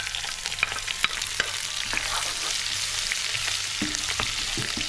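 Garlic sizzling in a hot pan, a bright continuous crackle with occasional sharp pops and soft stirring scrapes, close and alone without talk.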